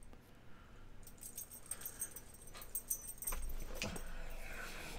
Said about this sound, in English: Damn dog itching herself with her stupid dog collar.